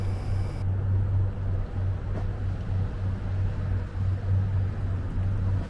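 A steady low engine drone with broad water and wind noise, continuous and fairly loud, like a motorboat running close by on the Sumida River in Tokyo.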